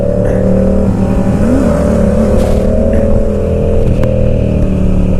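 A motorcycle engine revs hard in second gear while the front wheel lifts into a wheelie, a loud sustained drone with rising and falling pitch and strong wind noise throughout.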